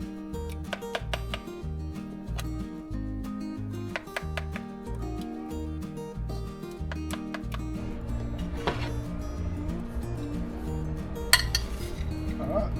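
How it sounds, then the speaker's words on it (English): Creamy, cheesy grits spooned onto dishes for shrimp and grits, with close metallic clinks of utensils against plates and pans in an irregular series over a low steady tonal hum, no voices. "Let's go ahead and plate us some"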